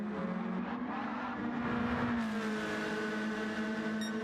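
Mazda race cars in a sim racing game drone at high engine pitch, the tones shifting and overlapping as the cars run close together, loud and continuous.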